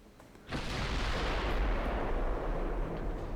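A Spanish dreadnought battleship's guns fire at close range in a naval combat game: a sudden heavy boom rolls into a loud, sustained roar and rumble that lasts the rest of the moment, with no voices.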